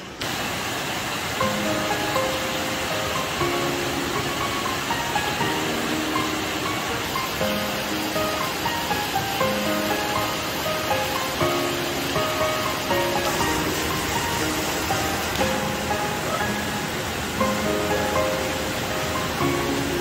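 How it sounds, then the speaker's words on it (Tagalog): Heavy rain pours steadily and loudly for the whole stretch, a dense, even roar of falling water close by with no talking over it. "Ang lakas ng ulan."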